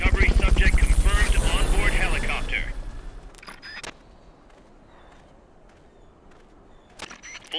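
In Metal Gear Solid: Peace Walker, a helicopter's loud rhythmic rotor chop during a Fulton recovery fades out after about three seconds, followed by quiet with scattered sharp clicks.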